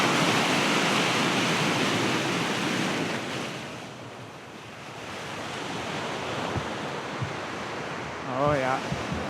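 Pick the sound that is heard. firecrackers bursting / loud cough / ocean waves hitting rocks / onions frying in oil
ocean waves hitting rocks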